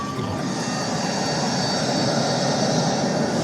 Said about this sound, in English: Can you get the sounds of the airplane?